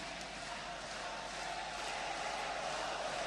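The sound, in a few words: badminton match crowd cheering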